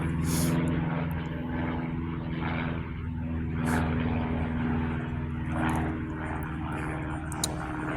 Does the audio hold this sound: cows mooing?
no